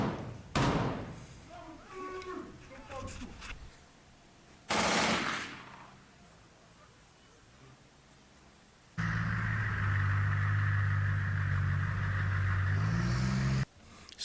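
Combat gunfire in a war zone, likely suppressing fire from a Minimi machine gun, with sharp bursts and thuds early on, then a long, loud, steady roaring stretch near the end.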